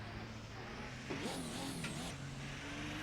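Van engine sound from the Assetto Corsa racing game, a steady low drone with a brief rising whine in the middle, moderately loud and continuous without talk.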